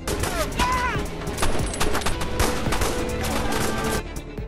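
Dense, loud bursts of automatic gunfire and fusillade fill a rebel attack scene in an action film, continuous over several seconds with shots overlapping one another.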